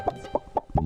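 A cartoon chicken from the Motu Patlu series clucks in four quick, evenly spaced bursts, close and fairly loud, with no voices over it.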